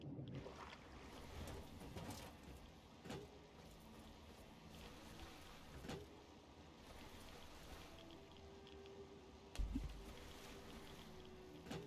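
A motorboat in the video game Fallout 3 gives a steady, dense engine and water wash, broadband and continuous, with a brief louder thump near the end and no talk.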